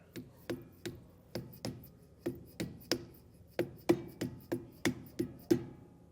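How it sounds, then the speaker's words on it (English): A hammer lightly tapping a grease cap onto a trailer wheel hub on a 2022 Forest River Rockwood, a string of about fifteen quick, soft metallic knocks in a fairly even rhythm, close and alone. "We'll take our cap and just get that centered and give it some light taps with the hammer"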